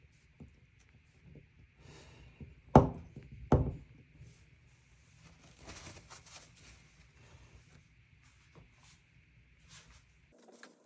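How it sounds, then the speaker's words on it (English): Used Bosch 3323 oil filter being disassembled, its crimped can edges seating the O-ring: two sharp, close metallic cracks or snaps a second apart, fairly loud against a quiet background with faint handling noise. "You can hear the very satisfying noise of the crimp holding the O-ring in place."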